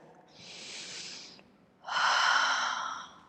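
Two deep breaths during a yoga flow, a long airy inhale followed by a fuller, louder exhale, close and clear with no talking.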